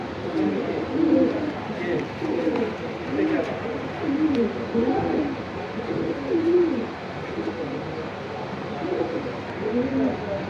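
Pigeons at a Jinjira bazaar pigeon stall coo in repeated low, throaty phrases, close by and continuous, with a voice speaking among them.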